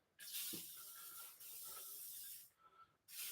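Bursts of aerosol spray hiss at a rusty, crusty bike handlebar in a shop, three close, loud blasts with brief pauses between them and no talking.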